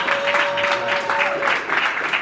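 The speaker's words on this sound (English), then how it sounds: "Give her a round of applause right now." Crowd at a boxing tribute event in D.C. applauds the mayor, a steady, moderately loud patter of many hands with a sustained tone ringing through the first half.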